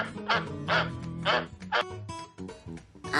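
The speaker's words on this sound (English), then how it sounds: "Now it's a duck. It sounds like quack quack." A duck quacks in several loud, nasal honks close by, evenly spaced over a light musical background.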